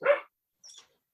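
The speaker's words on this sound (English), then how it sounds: "With apologies for the barking in the background" A 13-week-old puppy gives a single short yip followed by a fainter high whimper, heard alone in the background.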